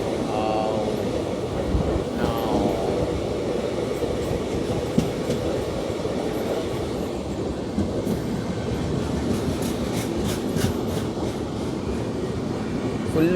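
Janmabhoomi Express, running from Lingampalli to Visakhapatnam, heard from on board as a continuous loud rumble of wheels on rails with rhythmic clicking of rail joints throughout, plus faint background voices.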